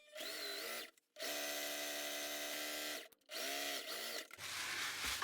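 A sewing machine stitches a seam along a fabric bag strap, whirring steadily in three separate runs: a short burst, a longer continuous stretch, then another short burst, with brief pauses and a faint clatter at the end.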